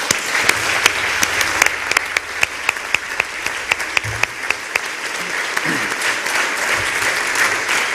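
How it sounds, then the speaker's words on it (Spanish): Applause from a film festival gala audience, a dense crowd clapping steadily throughout with a few sharper, louder claps standing out near the front. "por iso lle gustaría dar un aplauso"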